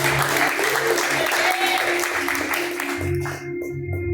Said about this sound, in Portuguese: e as palmas bem alegres para Jesus